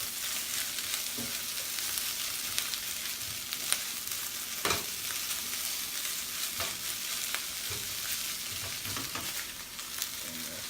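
Food fries steadily in a pan, a constant close sizzle with occasional clicks and scrapes as it is mixed and stirred, and nobody speaks.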